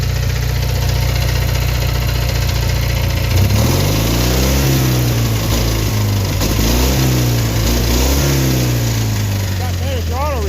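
A tractor engine, with its carburetor freshly adjusted, runs loud and close, its steady idle rising and falling in several short throttle blips over continuous engine noise, with a voice talking over it.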